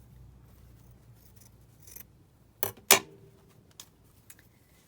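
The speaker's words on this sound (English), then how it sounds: "let me cut this ruffle down" Scissors snip through a fabric ruffle for a junk journal cover: two sharp, close cuts in quick succession, then a few lighter snips and rustles in a quiet room.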